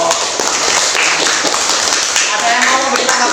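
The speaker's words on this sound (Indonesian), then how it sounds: "tepuk tangan dulu untuk kelompok" A class applauds a presenting group, with dense, steady clapping from many hands filling the room at close range and some voices mixed in.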